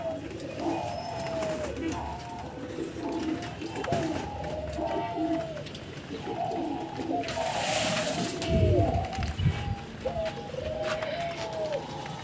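Pied doves sitting on eggs and chicks in their nest coo softly in repeated low phrases. Steady rustling and background noise run underneath, and a brief louder burst of movement comes near the end.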